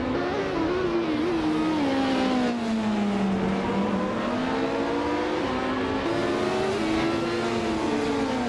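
Race cars in a racing video game, among them a Dallara P217, drone continuously with a loud engine whine that sweeps down and climbs back up through gear changes, steady and close throughout.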